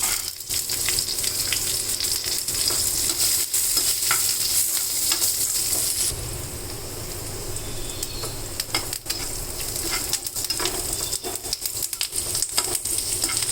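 Cashews and green chillies fry in ghee with a loud, dense sizzle. It eases after a few seconds, then carries on with crackling and intermittent stirring scrapes close by.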